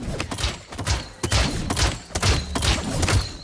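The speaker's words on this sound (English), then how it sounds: "You are shooting your crossbow extremely slowly." Crossbow shots in the video game Realm Royale Reforged, a rapid series of sharp impacts and thuds, several loud bursts a fraction of a second apart, close and dense throughout.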